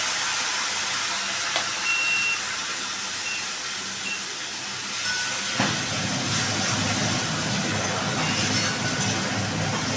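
Bottle gourd curry goes into hot oil tempered with cumin, bay leaf and dried red chili, giving a steady, loud hissing sizzle that runs throughout and swells briefly midway.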